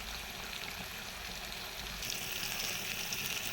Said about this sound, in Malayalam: അവൾക്ക് വേണ്ടിയിട്ട് മാത്രമായി ഈ മീൻ പൊരിക്കുന്നതിന്